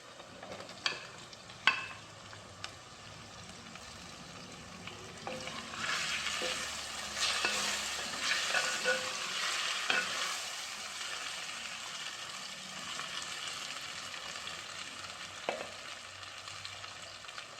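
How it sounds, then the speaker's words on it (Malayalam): Kerala-style lemon pickle mixture is stirred in a pan, giving soft sizzling with occasional scraping clicks of the spoon. It is quiet and close, with no voices. "ഇതൊന്ന് ഇളക്കി യോജിപ്പിക്കാം"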